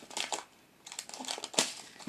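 Scissors snipping and crinkling through small plastic bags of diamond painting beads, a few soft close cuts and rustles in quick bursts, fairly quiet with no talking.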